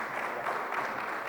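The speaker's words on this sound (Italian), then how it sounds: "Un applauso." Audience applause at an industry festival, steady dense clapping from a crowd throughout the short stretch with no speech over it.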